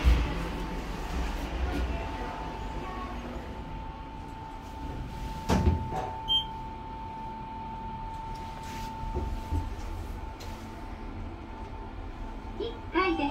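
A Toshiba elevator at Atre Oimachi 2 descends and its door opens, with a steady hum running throughout, a sharp mechanical clunk near the middle and quieter rattles of the sliding door toward the end.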